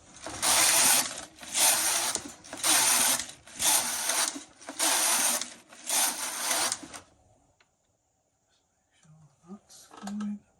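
A Brother-style HK-160 knitting machine carriage runs a closed edge cast on with six loud, rhythmic rasping, ratcheting passes close by. The passes are followed by near silence and a few faint clicks and thumps.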